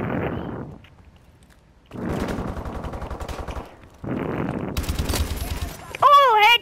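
Video game automatic gunfire rattles in rapid bursts, separated by short pauses, loud and close, ending with a brief electronic warble.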